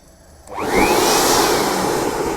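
A homemade waste-oil stove starts up, bursting from near silence into a loud, steady roaring rush that holds close and continuous.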